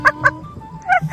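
Ducks from a duck pen in the Sundarbans give three short, nasal honking quacks close by, the first two in quick succession and the third after a brief pause.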